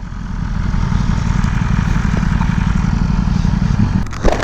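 An unlocked BMW S1000RR sport bike running steadily while being ridden: a loud, continuous low engine drone that holds for several seconds, with a brief rattle near the end.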